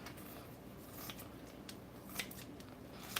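St. Louis ribs being cut in half, a few short crisp snips and crunches spread over low kitchen background noise.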